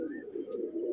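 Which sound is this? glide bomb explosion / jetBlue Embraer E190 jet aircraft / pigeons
pigeons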